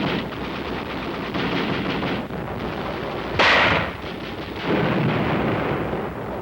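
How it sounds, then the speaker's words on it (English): Korean War 60-millimeter mortar fire: a dense, loud barrage of battlefield booms and crackling reports, with one sharp louder blast partway through and continuous rumbling gunfire throughout, no voices. "60-millimeter mortar. Bites like a 75 gun shell."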